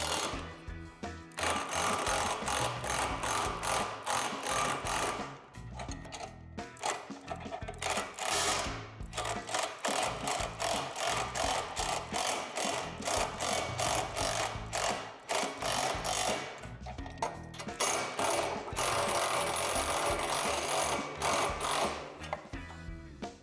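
Rapid, continuous ratcheting clicks come from a wrench tightening hardware during assembly of a Lifetime 54-inch in-ground Pump Adjust basketball system, with brief pauses between bursts.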